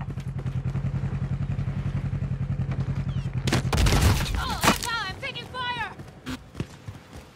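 Gunfire in a shooter game, a steady rhythmic thumping under a voice that gives way to a loud chaotic burst of shots and crashes, then scattered effects as the firing fades.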